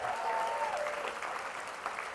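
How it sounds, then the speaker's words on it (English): Applause from a crowd of about 1,000 at a charity benefit, a dense, steady wash of clapping that holds at an even level throughout. "Give yourselves a round of applause."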